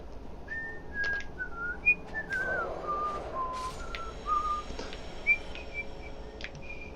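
A person whistles a wandering, tuneless melody of short rising and falling notes while playing Dark Souls, with faint game clicks and thumps in the background and no speech.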